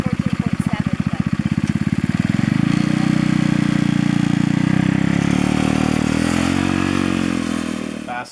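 Go-kart engine held at high speed after fuel-to-air mixture tuning, a loud steady buzzing drone that climbs in pitch over the first few seconds and stays near and constant to the end.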